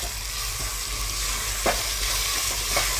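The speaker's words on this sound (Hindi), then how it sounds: "अब हम इसके अंदर डालेंगे सब्ज़ प्याज और इसको अच्छी तरह से थोड़ा सा फ्राई कर लेते हैं" Green onions frying in a pot for kadhi pakora, giving a steady soft sizzle with faint stirring scrapes and a few light clinks, close and continuous with no talking.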